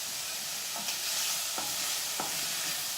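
Onions fry in an oiled pan for sausage and bacon rice, giving a steady broadband sizzle. A few short scraping stirs cut through it, and nobody speaks.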